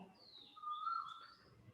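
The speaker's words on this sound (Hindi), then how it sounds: "कोयल का आवाज आ रहा है।" An Asian koel calls in the distance, a single faint rising whistled note heard indoors over low room noise.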